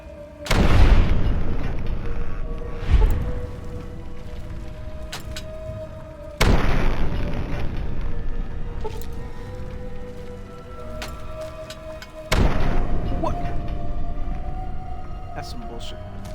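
Grenade explosions in the Fallout 3 video game, three loud booms spaced several seconds apart, each a sharp blast trailing into a rumbling decay, with a smaller burst in between.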